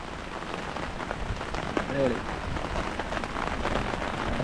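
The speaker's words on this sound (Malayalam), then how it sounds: "അത്യാവശ്യം നല്ല രീതിയിൽ മഴ എപ്പോഴും പെയ്തുകൊണ്ടിരിക്കുന്നുണ്ട്" Soft, steady rainfall patters continuously over a small boat on Munroe Island, Kerala, with brief murmured voices partway through.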